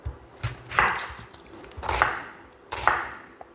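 A knife chops through a whole onion on a cutting board in a home kitchen: three separate bursts of quick, crisp cuts spaced about a second apart, close and fairly quiet, with no talking.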